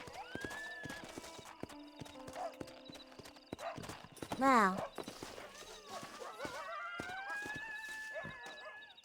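In the Red Dead Redemption video game, a horse's hooves clip-clop in a steady rhythm, broken midway by a loud rising whinny, while someone talks over the scene.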